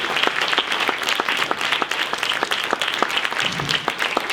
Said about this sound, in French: on peut applaudir Chocolatine pour ce prix du public